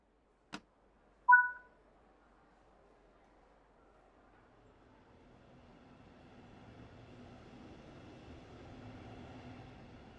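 In a train simulator video game, a sharp click and a brief two-tone chime ring out, then a low train rumble slowly builds from near silence as the train gets moving.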